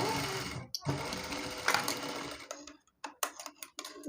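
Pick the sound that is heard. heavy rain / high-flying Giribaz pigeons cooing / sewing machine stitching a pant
sewing machine stitching a pant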